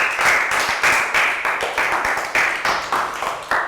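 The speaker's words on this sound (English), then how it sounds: "Big round of applause for Laka." A classroom of pupils applauding one child, a lively burst of clapping that pulses in repeated waves of quick claps for several seconds, close and fairly loud.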